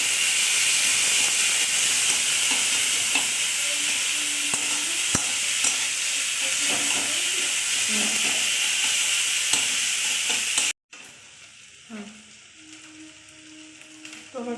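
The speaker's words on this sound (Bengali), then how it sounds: "পেঁয়াজটা একটু নাড়াচাড়া করে নিই।" Onions sizzle and fry steadily in a hot pan at home, a broad continuous hiss with scattered scrapes of stirring, before the sizzle cuts off sharply and quieter kitchen clatter follows.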